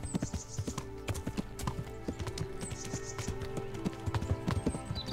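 Horse hooves clip-clop in a steady rhythm while riding into a forest in the medieval video game Kingdom Come: Deliverance, the close, repeated footfalls running through the whole stretch with a brief whinny-like sound.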